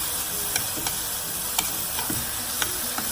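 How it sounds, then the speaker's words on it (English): Shrimp and vegetables stir-fry over high heat for crispy noodles, a steady dense sizzle running throughout with a few sharp scrapes and clicks of the utensil against the pan, close and fairly loud. "we're gonna put a stir fry in high heat"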